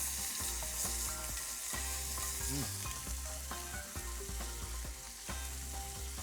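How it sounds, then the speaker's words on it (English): Thick bacon strips frying in a pan and being turned over, a continuous crackling sizzle running under a backdrop of steady tonal sound, moderately quiet and close, with no talking. "Once the bacon is browned on one side, turn it over."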